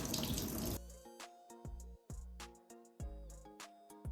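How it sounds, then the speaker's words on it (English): Running warm tap water splashing as clothing is rinsed by hand under the faucet; a loud burst of flow at the start gives way to clattering, intermittent splashes and drips as the fabric is worked, with no voices. "Now once done, rinse it out under some warm water."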